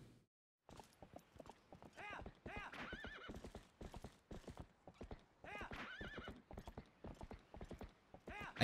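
Horse in Zelda: Twilight Princess gallops with rapid, steady clip-clop hoofbeats and repeated loud neighs and whinnies, close and clear, with little else around it.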